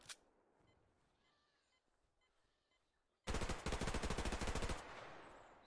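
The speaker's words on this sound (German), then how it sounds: "ich habe hier kurz danach bei mir Schüsse anschlagen gehört" Automatic gunfire in the online shooter Survarium, a sudden loud burst of rapid rounds after a few seconds of quiet ambience, then a fading tail.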